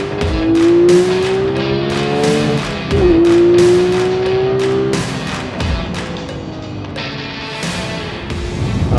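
A Porsche 911 GT3 of the 991.2 generation driving on the Road America race track, its loud engine pitch climbing through gears with sharp shifts, a raw, close, continuous howl that later settles lower.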